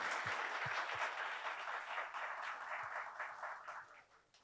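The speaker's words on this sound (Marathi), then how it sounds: "टाळ्या जरा जोरात जोरात जोरात होऊ देत. वाजवा." Audience applause at a business interview event, a steady wash of clapping that runs throughout, fairly distant and soft, and fades out at the end.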